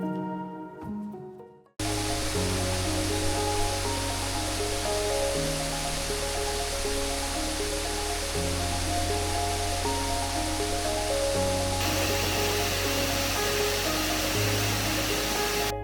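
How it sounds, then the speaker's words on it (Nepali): The Tindhare waterfall in Kavre, Nepal, cascades in streams with a loud, unbroken roar of rushing water, partly overlaid by steady background music after a brief quieter opening. "धारा भएर झर्ने यो झरनाको भव्यता साँच्चै नै लोभलाग्दो छ।"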